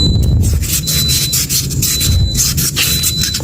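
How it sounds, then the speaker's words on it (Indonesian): Steady back-and-forth rubbing of fine sandpaper on a Yamaha or Honda motorcycle brake caliper piston, a close, continuous gritty scraping in quick strokes with no talk. "Nah, seperti ini kita amplas halus."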